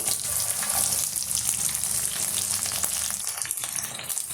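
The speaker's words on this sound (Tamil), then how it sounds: "இப்போ நம்ம சேர்த்துருக்க வெங்காயம் பூண்டு இது எல்லாம் வந்து நல்லா வதங்கி வரட்டுங்க" Small onions, garlic and curry leaves sauté in a pan for brinjal thokku, giving a loud, continuous close sizzle with faint stirring scrapes and no speech.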